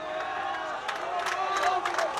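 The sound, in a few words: crowd cheering at interschools rugby match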